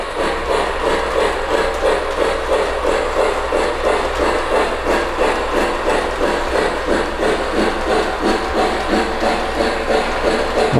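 A Lionel model train pulling a Conrail wide-vision cupola caboose runs around its track with a steady, close whirring rumble and a faint rhythmic clicking throughout.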